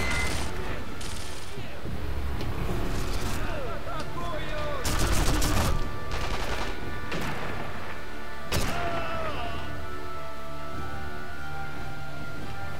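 Gunfire in the video game Sniper Elite V2, loud bursts of shots and crashing impacts in several clusters over steady game ambience and music.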